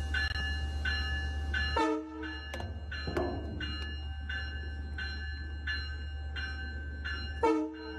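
A train horn sounds twice, in one loud sustained blast early on and another near the end, over a steady low rumble of rolling rail cars.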